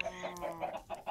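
Chickens on a farm in the video game Minecraft cluck in a quick run of short, soft, evenly spaced calls.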